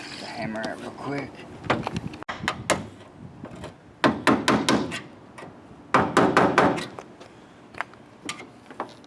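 Sharp metallic hammer blows strike a Nissan 240SX S13 roof skin near the A-pillar during a roof swap, coming in quick clustered bursts of four or five hits, loud and close, with people talking in between.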